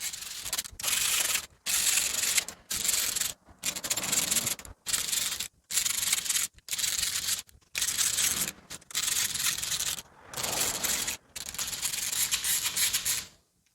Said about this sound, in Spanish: Vamos a ajustar con nuestra mano.